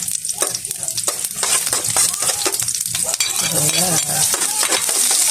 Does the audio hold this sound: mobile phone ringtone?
no